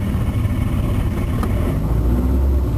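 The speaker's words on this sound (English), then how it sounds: "Just drive around here into a position where I'm not on a public road" A 2007 Subaru Liberty GT fitted with a big turbo drives along off a public road, its engine droning loudly and steadily from inside the car with a slight rise in pitch toward the end.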